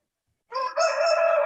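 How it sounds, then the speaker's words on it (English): A rooster crows in a residential neighborhood in Berlin, one long cock-a-doodle-doo rising after a brief silence and holding strong to the end, clear and fairly close with nothing else heard. "I didn't expect roosters in my neighborhood"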